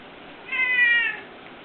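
A cat, wanting to eat while being prepared for syringe feeding, gives a single clear, fairly close meow lasting under a second over quiet room background.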